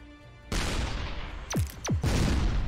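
Gunfire in a video game, a sudden loud burst of shots over steady game noise, with two quick descending whooshes from projectiles and then continuous dense firing.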